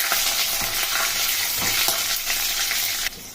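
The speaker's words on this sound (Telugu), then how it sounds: "ఆ తర్వాత డ్రై చిల్లీ, మనం పొడుగు పొడుగు కట్ చేసి పెట్టుకున్న గ్రీన్ చిల్లీ, ఇదంతా కలిపి పెట్టుకోవాలి ఒకసారి" Dry red chillies and long-cut green chillies with curry leaves sizzle in hot oil in a pan while a spoon stirs them, loud crackling frying broken by a few scraping strokes, ending in a sudden drop.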